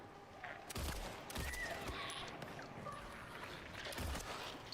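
Video game gunfire sounds from a shooter in a foggy setting, a few sharp shot bursts over a busy, noisy game background of moderate loudness.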